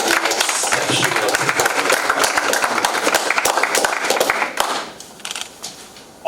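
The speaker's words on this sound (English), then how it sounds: "please give both teams a round of applause" A room full of people applauds at a school debate competition, dense clapping that continues steadily before thinning out to scattered claps near the end.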